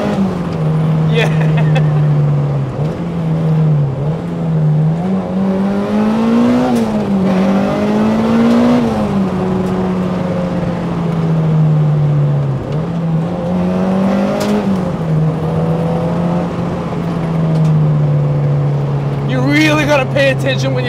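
A modified Honda Civic EG with a K20 engine swap drives along, its engine drone steady and loud throughout, pitch rising and falling with throttle as it accelerates and eases off, heard from inside the car.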